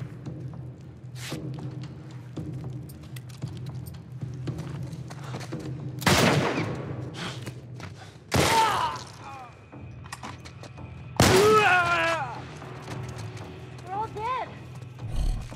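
Gunfire in The Last of Us Remastered on PS5: a few loud, sharp bursts stand out against quieter game ambience and movement, with voices speaking between the shots.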